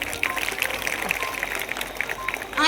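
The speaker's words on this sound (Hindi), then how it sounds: "क्या आपका बच्चा होता तब भी आप ऐसे ही तालियां बजाते?" An audience claps at a school annual function, a steady, moderately distant patter of many hands that carries evenly from start to finish, with a brief rustle at the very end.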